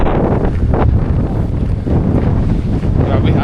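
Strong wind buffets the microphone in loud, continuous gusts, a dull roaring rush with no other clear sounds.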